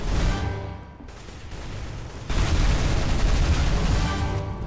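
Gunfire in Counter-Strike: Global Offensive, from a firefight heard at a distance, comes as a dense crackling rumble of shots that rises in loudness midway and continues without pause.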